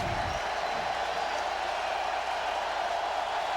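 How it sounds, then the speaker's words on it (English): Crowd noise in a college football stadium during a 2001 South Carolina vs. Arkansas game on a third-and-10 play, a steady broad roar of many voices yelling together, loud and sustained throughout. "The crowd's yelling at everybody."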